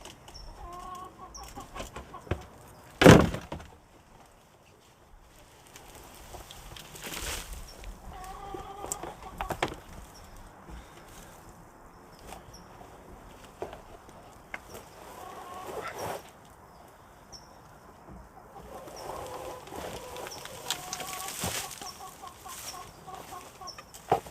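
Backyard chickens cluck intermittently in scattered bursts, with a louder squawk early on, heard moderately close amid quiet outdoor background.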